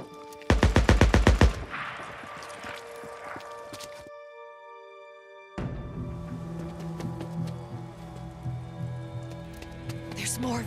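Gunfire from a really big gun in the Days Gone video game: a rapid burst of loud, close shots, then a sudden drop to near silence, followed by a steady ambient game backdrop with faint clatter.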